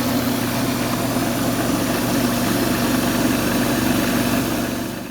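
A wood lathe spins a cross-cut pen blank during 1200-grit sanding, giving a steady, loud motor hum with an even low rumble and faint rubbing texture, with no pause and no voices.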